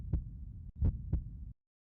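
Heartbeat in the video game Racing Lagoon, three deep thumping beats in a slow, steady rhythm, close and muffled, then abrupt silence.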